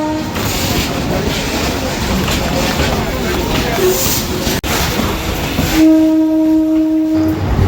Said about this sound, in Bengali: ওয়াগ-9 লোকোমোটিভ নিয়ে যাচ্ছে এই মালগাড়িটা